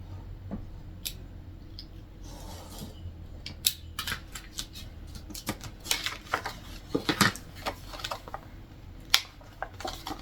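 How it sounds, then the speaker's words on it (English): Scissors cut through 69-cent Hobby Lobby cardstock in a quiet room, a run of close, crisp snips and clicks with short pauses between them, speeding up and getting louder toward the end. "And I'm going to try my best to cut it all the way to the other side."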